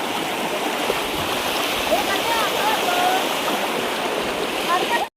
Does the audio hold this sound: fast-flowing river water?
yes